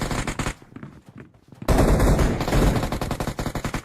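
Rapid automatic gunfire from a gun in a video game: a few scattered shots, a short lull, then a loud, sustained volley of fast rounds close up.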